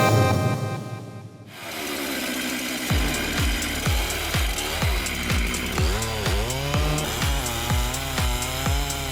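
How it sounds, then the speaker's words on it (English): A handheld chainsaw cuts trees with a loud, continuous engine roar, pulsing in regular rhythmic bursts as the chain bites through the wood. "With just a handheld chainsaw,"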